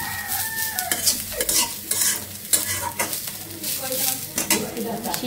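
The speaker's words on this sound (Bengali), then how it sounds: "মাংস কালো জিরা দিয়ে একটু ভেজে নিচ্ছি" Meat frying with black cumin in a little oil, crackling and sizzling loudly as a spatula stirs and scrapes the pan in an irregular rhythm, with a rooster crowing faintly in the background and no talking.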